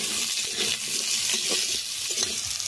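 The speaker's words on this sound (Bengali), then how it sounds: "এবার এতে দিয়ে দিচ্ছি আলুটা দিয়ে একটু নাড়াচাড়া করে নেব" Potatoes sizzle in hot mustard oil in a wok. A steady, loud frying hiss carries throughout, with a few soft scraping stirs mixed in, and no talking.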